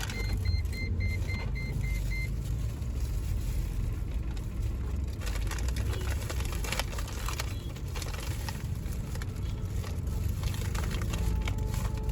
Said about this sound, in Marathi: आता डुबक्या गाडी चालवतोय